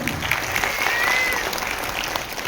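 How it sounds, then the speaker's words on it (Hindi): Audience applause at a school annual function, a steady wash of clapping from a crowd that fills the whole moment at moderate loudness, with faint voices underneath. "के लिए तालियां हो जाए"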